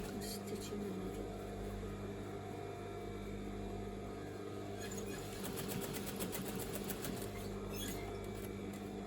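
Sewing machine stitching a seam on a pair of rockabilly trousers: a steady, close mechanical whir with rapid ticking bursts of stitching, running alone without talk.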